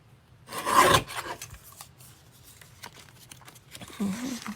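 A cardstock matte layer for a birthday card is trimmed with a loud scraping rasp of a paper trimmer blade drawn once, followed by quieter sliding and handling of the card.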